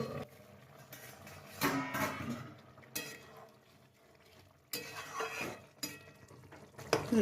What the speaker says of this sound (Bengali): এবার ঢাকনাটা খুলে দিচ্ছি।